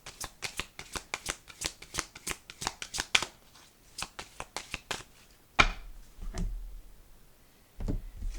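Tarot cards are shuffled by hand in quick, crisp bursts of riffling and tapping close up, then a few slower thumps and slides as the deck is settled, with no talking.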